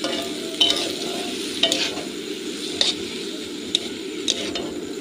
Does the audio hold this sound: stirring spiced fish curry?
yes